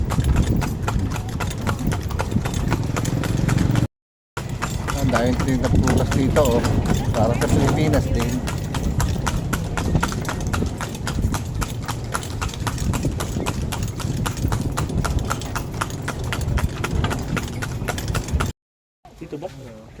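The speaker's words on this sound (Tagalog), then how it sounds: "Riding the horse." Horse hooves clip-clop steadily and close while riding along in Vietnam, a continuous rhythmic patter with people talking over it and two brief dropouts.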